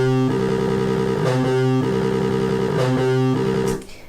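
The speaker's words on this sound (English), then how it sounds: "if I turn distortion on and we use TD-3's distortion, it would sound like this." A Behringer TD-3 analog bass synth with its built-in distortion on loops a gritty, buzzing low riff with harsh overtones, steady and loud, then cuts off abruptly.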